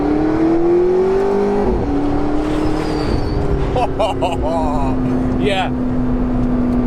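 A McLaren 650S Spider's engine drones steadily up close from inside the cabin, its pitch easing down in a few shifts, while someone talks over it.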